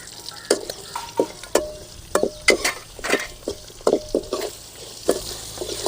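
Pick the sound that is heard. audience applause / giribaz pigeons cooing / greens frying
greens frying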